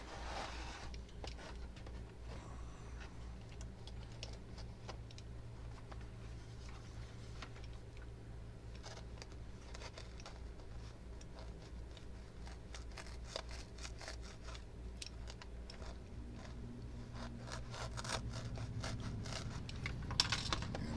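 A knife cuts a hole in a 1981 Kenner Star Wars Dagobah playset, producing steady, close scraping and rasping strokes for about twenty seconds with no talking.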